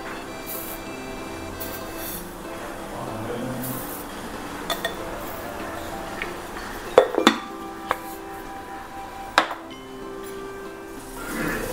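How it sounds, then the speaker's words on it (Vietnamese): Loose-leaf tea spooned into a pot for saffron masala chai: faint scooping and light metallic clinks, a few sharper taps near the middle, close over a steady low background hum. "Trang sẽ bỏ 3 muỗng trà nha cả nhà."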